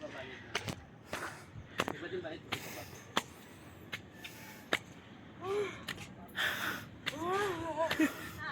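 Heavy panting after exertion, a series of sharp breathy gasps and huffs in irregular rhythm, close to the microphone, with a few strained, voiced breaths near the end.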